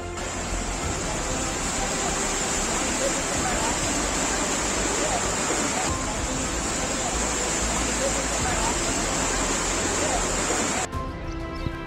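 Floodwater from an overflowing stream pouring over a submerged small road bridge near Hungund in Bagalkot district, Karnataka, after heavy rain, a loud continuous rushing roar that cuts off near the end.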